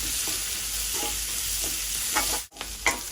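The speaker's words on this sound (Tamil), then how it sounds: "பெரிய சீரகம் போட்டு நல்லா தாளிச்சிடும்" Fennel seeds crackle and sizzle in hot oil as they temper in a pan. A constant close frying hiss is broken by a few stirring scrapes and a brief cut near the end, and no one speaks.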